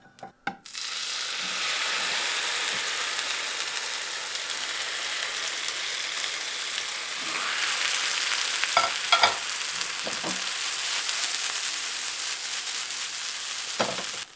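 A potato flatbread made without flour fries in an oiled pan, giving off a steady loud sizzle like falling rain, with a few knocks and clicks of handling over it.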